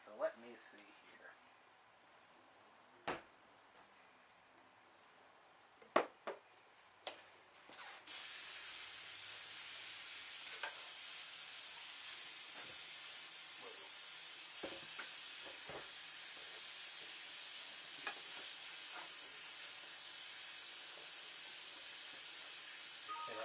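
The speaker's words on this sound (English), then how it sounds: "Melt the butter in a small pan over medium heat, adding the chopped celery." Chopped celery cooks in melted butter in a small pan over medium heat, with a few knocks at first and then a steady sizzling hiss from the pan that continues to the end.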